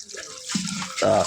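Tap water runs into a household container at the start of a family morning, a brief splashing rush that swells near the end, with a voice talking over it.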